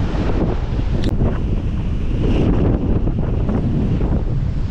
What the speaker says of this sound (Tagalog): Kaya napakalakas ng hangin dito banda.